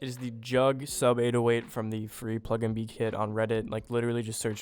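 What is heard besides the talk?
None of the usual background noises is heard.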